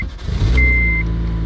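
An 8th-generation Honda Civic Si engine starting after sitting unused for weeks: a short starter crank, then the engine catches and settles into a steady, close idle, with a brief electronic chime over it.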